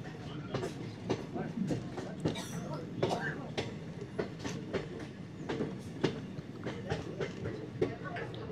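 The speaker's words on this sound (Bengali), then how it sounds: "ট্রেনটা বাঁকটা নিচ্ছে দেখো" Train rounding a bend through hilly country, with steady rumbling and clicking wheel sounds mixed with ongoing excited talk close by.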